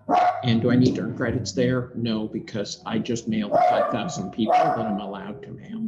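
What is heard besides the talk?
dog barking in the background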